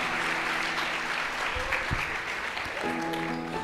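A church congregation applauds during a Portuguese-language service, dense sustained clapping from many hands throughout, with a held musical tone underneath.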